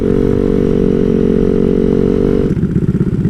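A 300cc Honda Grom motorcycle runs with a steady, loud engine drone that breaks into choppy, pulsing revs near the end.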